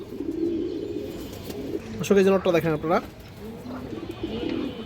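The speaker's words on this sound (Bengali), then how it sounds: "এটা কিন্তু একটা সবুজ গলা কবুতর" A green-necked pigeon gives a short run of rhythmic coos, close and clear, between stretches of someone talking over faint background chatter.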